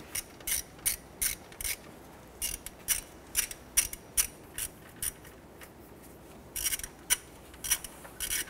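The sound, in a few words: ratcheting bolts down on a Ford Ranger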